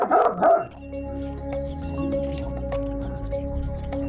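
A dog barks twice in quick succession close by at a rural farmyard in Korçë, followed by a steady low mechanical hum.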